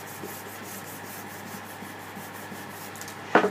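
A fingertip sanding pad rubs by hand over delicate areas with a soft, rhythmic scratchy swishing, steady and close, ending with a brief louder scrape.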